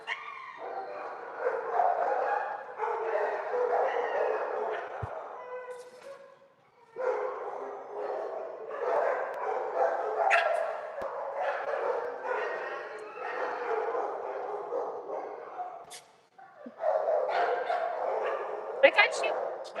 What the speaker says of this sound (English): Let's take Dio out next. He's a scared puppy.